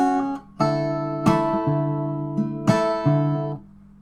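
Acoustic guitar plays the anacrustic opening of the second section of the melody of the Naruto Shippuden theme, with slap chords and hammer-ons: ringing plucked notes punctuated by two sharp percussive slaps, close and clear, no voices.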